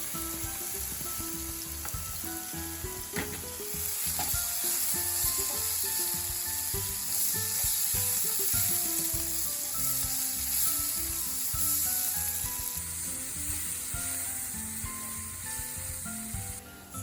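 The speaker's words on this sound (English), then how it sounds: "we can go ahead and add the leeks, and we're going to cook these for a couple minutes till they soften" Leeks sauté in hot oil in a pan, a continuous close sizzle with occasional stirring scrapes and crackles running unbroken for well over fifteen seconds.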